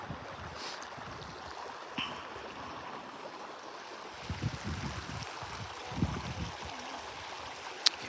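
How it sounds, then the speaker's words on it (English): Clear rainwater running down from the mountains in a creek makes a steady, faint, broadband rush throughout, with a few soft low thumps and knocks near the middle and end. "Can you hear the creek?"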